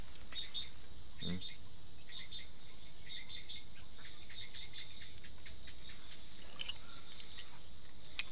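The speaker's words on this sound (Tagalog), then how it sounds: "Tahimik, kung hindi mga kuliglig lang yung naririnig mo." Crickets chirp continuously in a high, steady trill on Mount Banahaw in the Philippines, fairly soft and distant, with an occasional bird call mixed in.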